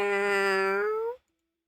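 A single long, loud cat meow with clear harmonics, close by, lasting about a second and then cutting to silence.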